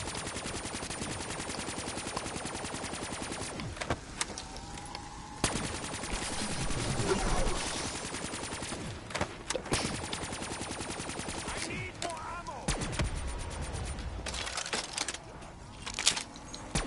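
Video game gunfire crackles in rapid automatic bursts and scattered single shots over a constant hissing game soundscape, with brief gaps of quieter ambience between volleys.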